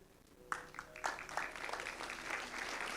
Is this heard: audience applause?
yes